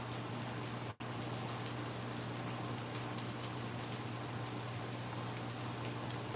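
Steady rain falls without letup, an even wash of dense patter with a low constant hum underneath and one brief dropout; no one speaks.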